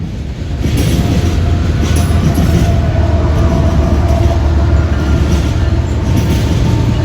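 Southbound M340 freight train with a DPU on the Milwaukee District West line near the CN Leithton sub crossing. It rumbles loudly past at close range, a steady heavy roar of rolling wagons and wheel noise for the whole stretch.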